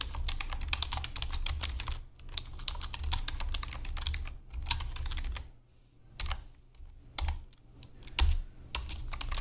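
Someone types on a computer keyboard while writing JavaScript code, producing rapid, irregular clicky keystrokes in bursts with brief pauses, close and clear, with no talking.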